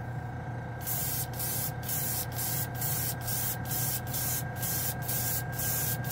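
Airbrush laying down a Mr. Color GX base coat: a steady close hiss of spray over a low compressor hum, broken by regular brief pauses as the trigger is released and pressed again.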